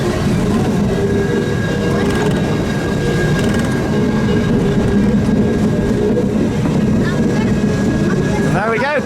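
The Casey Jr. circus train ride in Fantasyland at Disneyland Paris rumbles along its track, wheels clacking and squealing over a steady roll, with voices in the background.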